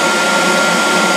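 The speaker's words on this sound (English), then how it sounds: "I'm going to take my MicroMark heat gun," A MicroMark miniature heat gun blows with a steady, close whooshing fan hiss, continuous and unbroken, with no talking.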